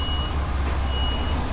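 Steady electronic reverse-warning tones from a truck backing out onto a road, partly faint and sitting over a loud, continuous low engine drone heard from the cab.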